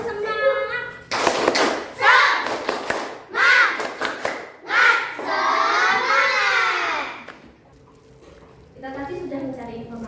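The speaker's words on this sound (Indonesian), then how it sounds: "mari kita tepuk semangat supaya semangat semuanya ya" A classroom group joins a teacher in the rhythmic 'tepuk semangat' clapping routine, with bursts of patterned hand claps alternating with chanted, shouted voices, close and loud, ending in plain talk.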